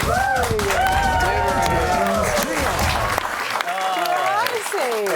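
On a TV news panel show, clapping and light cheering from the studio mix with lively overlapping talk and laughter from the hosts, the applause running under the voices.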